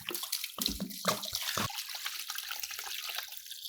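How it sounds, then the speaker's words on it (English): Water pours into a commercial cold brew coffee brewer, a splashing, gurgling flow that starts with a few heavier splashes, then settles into a steady trickle, close and fairly quiet. "And then we're gonna just pour the rest of the water in."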